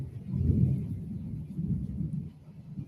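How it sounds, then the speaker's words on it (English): Low thunder rolls on steadily for a few seconds, distant and deep, swelling and fading in long waves with no voices over it. "Can y'all hear the thunder too?"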